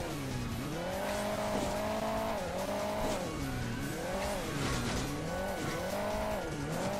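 Engine of a car in the mobile game Hill Climb Racing 2, a continuous whining drone that rises and falls rhythmically in pitch as it revs, steady and fairly quiet with no talk.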